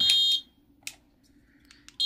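A Honda Click 150 V2 motorcycle alarm gives off shrill, piercing electronic beeps in short bursts, with a long chirp at the start, a brief blip in the middle and another loud burst at the end.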